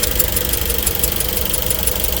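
A badly damaged car engine with holes into the reservoir runs steadily, a loud, close, rough drone with a fast, even knocking pulse.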